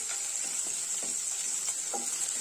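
Crushed garlic and ginger sizzle in hot oil for an egg curry, a continuous bright frying hiss with soft stirring taps layered underneath, close and steady.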